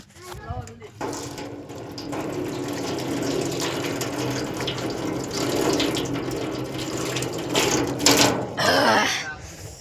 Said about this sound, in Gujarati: આ ભગવાનની દયાથી પાણી આવી ગયું